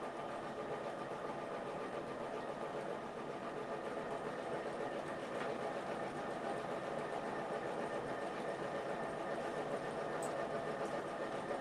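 An embroidery machine stitching out a mug rug, trimming its jump stitches automatically, gives a steady, close mechanical whir and rapid needle chatter that runs unbroken throughout, with no voices.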